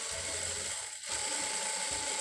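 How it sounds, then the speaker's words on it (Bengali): A domestic sewing machine stitches a seam on a round maxi dress, giving a close, rapid mechanical clatter of needle and gears that dips briefly in the middle before running on. "সাইড দিয়ে আর একটা সেলাই এইভাবে আমি বসিয়ে দিব।"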